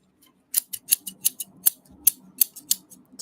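A favorite pair of scissors snipping repeatedly in a quiet room, about a dozen crisp metallic cuts at an uneven rhythm, close and clear with nothing else heard.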